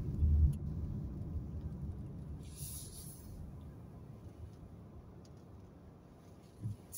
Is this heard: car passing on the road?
yes